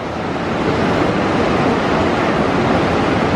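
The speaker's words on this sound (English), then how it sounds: "This is the raging river from the Kumbh Glacier." Rushing glacial river fed by the Khumbu Glacier on the Everest Base Camp trek, a loud, steady broadband roar of churning whitewater filling the whole scene without letup.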